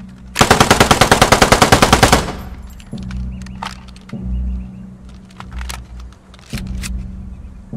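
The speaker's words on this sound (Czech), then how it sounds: "Jedná se o vzduchem chlazený kulomet z poloviny 20. let od konstruktora Václava Holka." A ZB26 air-cooled light machine gun fires a loud, fast burst of about fifteen evenly spaced shots in the video game Post Scriptum. Quieter clicks and rustles follow over a low background rumble.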